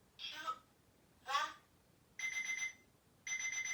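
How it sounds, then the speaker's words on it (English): A kitchen timer beeps in two bursts of rapid electronic chirps, clear and close, following two brief voice-like sounds at the start. "It's beeping. That's telling you your time is up."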